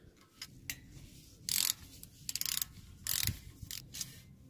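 Ratchet with an extension working a 5 mm hex Allen bolt near the ABS wire on a Toyota Tundra strut assembly: several short bursts of quick, close metallic clicking separated by brief pauses.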